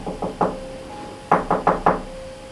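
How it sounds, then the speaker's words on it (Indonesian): Knuckles rap on a wooden bedroom door in a horror story scene: three quick knocks, a pause, then four more evenly spaced raps, close and crisp over a quiet room with a faint steady hum. "di mana Pak Ridwan lalu mengetuk pintu kamarnya."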